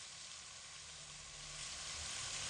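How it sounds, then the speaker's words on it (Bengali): Drumstick stems and potatoes sauté with spices in a pan over medium heat, making a continuous close sizzle and hiss that grows slightly louder toward the end, with no talking. "মিডিয়াম আঁচে রেখে সমস্ত মশলাপাতি দিয়ে ডাটা আর আলু আমি এখানে 3 থেকে 4 মিনিট মতো খুব ভালো করে কষিয়ে নিয়েছি"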